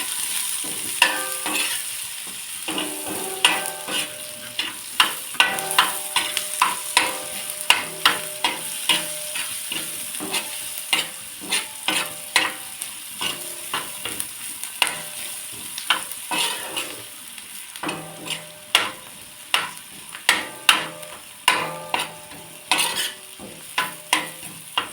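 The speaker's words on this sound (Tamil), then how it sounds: "கொஞ்சம் மீடியம் ஃப்ளேமில் வச்சு நல்லா வணக்கலாம்." Egg dosa batter sizzling on a hot pan over medium flame while a spatula scrapes and stirs, producing a steady frying hiss with rhythmic, repeated scraping strokes close up.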